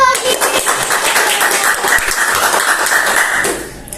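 An audience applauds steadily and loudly after a young winner of a martial arts competition is introduced, a dense continuous clapping that fades toward the end.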